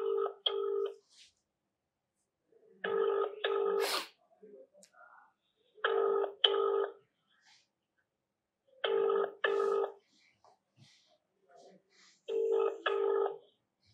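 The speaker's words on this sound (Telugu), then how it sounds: "సో మరి ఏం చూపిస్తాడో మరి ఏందో ఒకసారి శాంసన్ గారికి ఫోన్ చేద్దాం." An outgoing phone call rings back in repeated double-burst tones, each pair separated by a few seconds of near silence, clear and moderately loud across five cycles.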